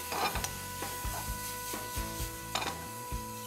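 Pork and julienned carrots stir-fried in a pan: a spatula scrapes and tosses in a steady rhythm of soft knocks over a quiet sizzle, close and fairly faint.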